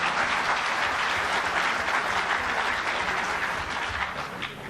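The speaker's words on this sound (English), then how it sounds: "give a round of applause for our" An audience at a Uganda Law Society event for the launch of the International Bar Association applauds the panelists, with steady, dense clapping throughout that eases slightly near the end.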